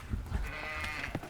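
Goats on a snowy farm bleating in a couple of short, close cries over a brief moment, with no talking.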